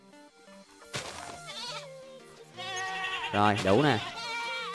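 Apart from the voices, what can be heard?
goat bleating in video game Minecraft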